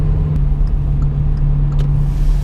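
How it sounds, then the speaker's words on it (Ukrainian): Car cruising through Kyiv city traffic in fourth gear at about 80 km/h, a BMW E30 or Hyundai Accent, giving a steady, loud low engine and road rumble with a constant drone and no speech. "І вже четверта передача, і от ми їдемо."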